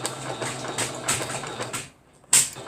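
A sewing machine stitches a stove towel in a fast, light, whirring patter, stopping briefly near the end before a quick restart, close-up and without voices.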